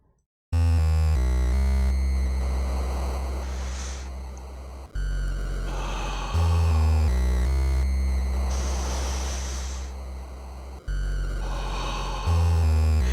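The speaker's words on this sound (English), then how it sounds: "That is the sound of whenever you take a voice clip or an audio clip of someone breathing and then put it into a sound chip from like an old console." In a piece of Deltarune video game music, a breathing recording turned into an 8-bit chip sound swells and fades in long, hissing waves over a steady low synth drone, slow and repeating like inhales and exhales.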